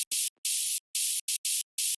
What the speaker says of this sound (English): Just added some white noise to make it more punchy